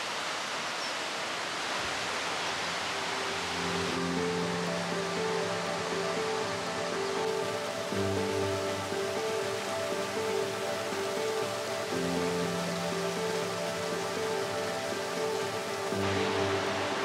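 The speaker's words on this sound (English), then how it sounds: "And now here's the waterfall," Waterfall at a Mexican hacienda, a constant broadband rushing roar heard throughout, with steady musical tones layered over it in repeating blocks.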